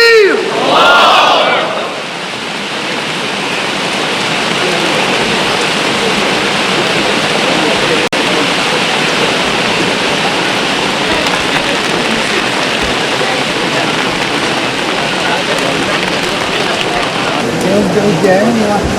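Heavy rain pours in a steady, dense roar on surfaces, loud and close, after a brief burst of voices at the start.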